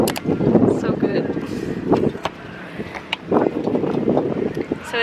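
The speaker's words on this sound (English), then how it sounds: "the wind is horrible" Heavy wind buffets the microphone in loud, gusty roars at an outdoor vendor market with tents, with bursts of rumbling noise rising and falling and voices faintly underneath.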